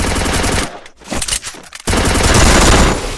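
Loud automatic gunfire in a shooting video game, with dense rapid bursts that briefly drop off mid-clip and then resume at full intensity.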